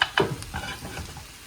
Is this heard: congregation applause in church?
no